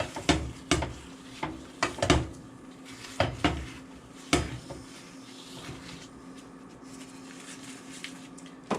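Butter spread to coat a pan for omelet eggs, heard as a series of irregular light clanks and scrapes of a utensil against the pan over a faint steady hum, with no talking.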